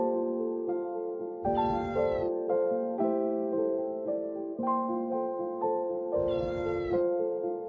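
A cat with its head stuck in a concrete pipe meows repeatedly in drawn-out, harmonic cries, with two sharper, louder yowls standing out; close and continuous, no talking.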